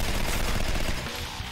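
Gunshots in the video game Legendary, a dense loud rattle of rapid gunfire filling the whole moment before tailing off slightly.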